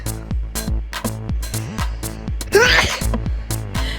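A nose blow followed by a sneeze, close and loud: a series of short sharp nasal bursts, then one strong explosive sneeze in the middle, with more quick snorts around it.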